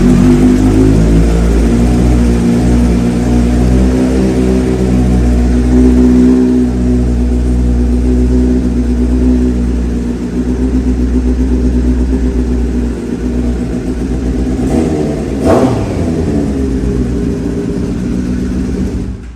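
A 2018 BMW S1000RR superbike with 26,000 km on it revs loudly and close, holding a deep, steady engine roar that swells and dips, with one sharp blip near the end, and no talking.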